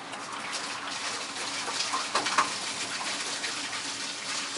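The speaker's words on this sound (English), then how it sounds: "You can hear the water is now running in the waterfall." Water running steadily in a model railroad waterfall in a basement, a soft continuous splashing wash with slight surges, fairly close and alone without talk.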